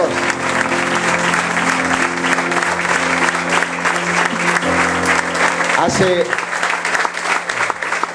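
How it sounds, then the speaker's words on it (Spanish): Sustained, dense applause from a church congregation fills the room, steady and loud throughout, with some voices mixed in beneath the clapping. "Denle un aplauso al Señor."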